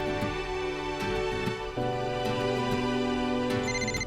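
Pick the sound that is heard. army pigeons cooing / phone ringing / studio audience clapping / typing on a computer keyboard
phone ringing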